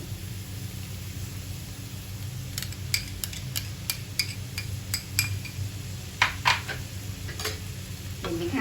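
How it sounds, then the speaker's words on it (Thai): Seasoned sauce is poured into a pan of shrimp and broccoli stir-fry. A steady sizzle runs under a quick series of sharp spatula clicks and scrapes, with no talking. "แล้วก็ใส่น้ำซอสที่เราปรุงไว้นะคะลงไปเลย"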